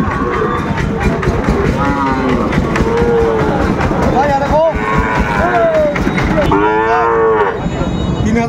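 Sahiwal cattle moo repeatedly at a livestock market in Bangladesh, several long lowing calls rising over a dense crowd of voices and bustle, with no letup throughout.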